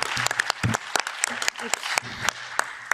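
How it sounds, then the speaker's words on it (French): Scattered, sparse claps ring out in a European Parliament hall for visiting Latin American delegations at a peoples' summit, with individual hand claps standing apart and faint talk between them. "On peut vous applaudir aussi."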